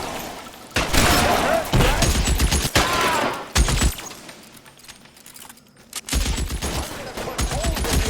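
A shootout in the LA Noire video game brings loud bursts of rapid gunfire, several volleys separated by short lulls, mixed with thuds and shouting voices.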